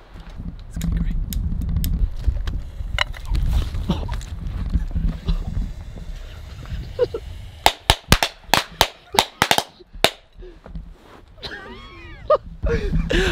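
A rapid string of sharp firecracker bangs goes off close by from firecrackers set in a cup, loud irregular pops following muffled voices and rustling.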